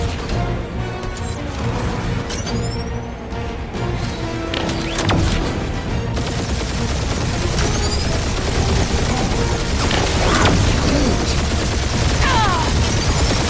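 A sustained weapons barrage rages during a Guardians of the Galaxy video game battle, with dense, loud, continuous gunfire, crashes and metallic clatter layered throughout.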